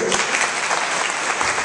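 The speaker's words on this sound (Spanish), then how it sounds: "¡Fuerte el aplauso para el próximo miembro del Comité Central, José Lunes!" A crowd at a Dominican political party campaign rally breaks into a brief, dense burst of applause for a Central Committee candidate, steady and close throughout.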